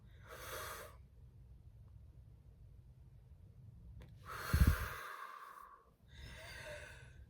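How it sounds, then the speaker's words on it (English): Deep breaths in and out, slow and close, with a long airy inhale, a quiet pause, then a strong exhale with a soft snort, and another breath beginning at the end. "Breathe in, breathe out."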